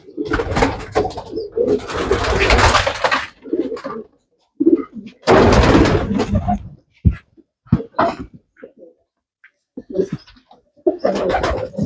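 Several rounds of soft, throaty homing pigeon coos close by, separated by brief silences, with a few sharper bird sounds near the end.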